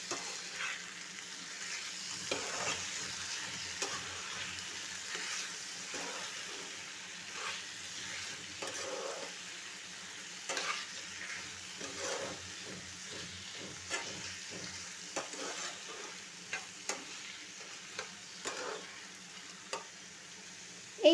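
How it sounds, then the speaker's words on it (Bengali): Boiled banana flower is stirred into fried spice paste for mocha ghonto, giving a low sizzle under repeated scraping spoon strokes and occasional sharper knocks against the pan, close and fairly quiet throughout. "মশলার ভেতরে এবার দিন সেদ্ধ করে রাখা কলার মোচাটা। মোচাটা দিয়ে ভালো করে নাড়াচাড়া করে নিন।"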